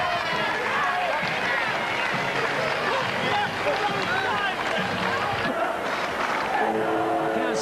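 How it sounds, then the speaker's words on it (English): A rugby league crowd at a 1999 Castleford v Bradford match applauds as the teams leave the field, a dense, steady roar of clapping and cheering with a commentator talking over it. "Both teams, both deserve the round of applause they're going off."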